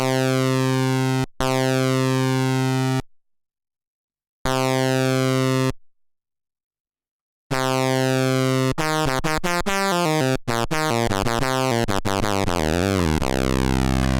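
Thin, plasticky synthesizer lead notes using pulse width modulation on a Roland JU-06A Boutique hold steady with silent gaps, then break into rapid stepped runs of shifting pitches.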